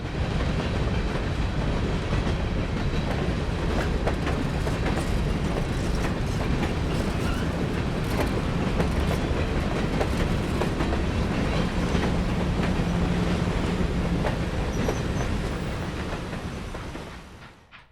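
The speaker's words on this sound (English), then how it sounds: "Old meets new as the CSX freight, an empty grain train, rumbles by on the main line" An empty CSX grain train, a freight on the main line toward Clifton Forge, Virginia, rumbles past close by with steady, loud wheel clatter and rail noise throughout, fading slightly at the very end.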